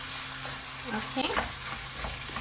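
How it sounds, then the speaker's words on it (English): Lamb with seasonings frying in a pot on the stove while being stirred, a steady soft sizzle with brief scraping stirs near the middle, close and moderately quiet. "add in all your lamb as well as your seasonings. into the pot. Then you just want to stir it up"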